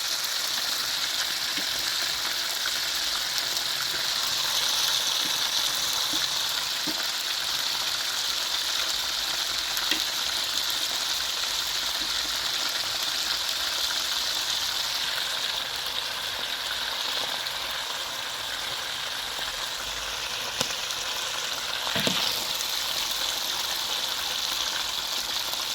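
Cow liver deep frying in hot oil makes a loud, continuous sizzle and crackle with occasional sharper pops, heard alone without any talk.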